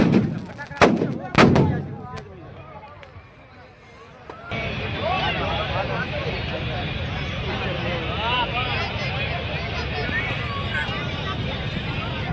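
Firecrackers burst inside a burning Ravan effigy at a Dussehra Ravan Dahan in Bhavnagar, opening with several loud sharp bangs, then a dense continuous crackling roar beneath crowd noise and talk.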